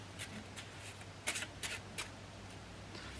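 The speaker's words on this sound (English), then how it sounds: "we'll do a quick shuffle again" A quick riffle shuffle of a deck of cards, with several short papery bursts close to the mic in a quiet room and no voices.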